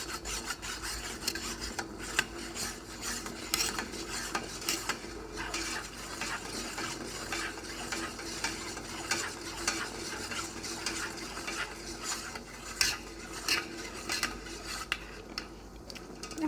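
Melted melt-and-pour soap base is stirred in a pot over heat, producing soft, quiet, rhythmic scraping and rubbing strokes that continue steadily with no voices.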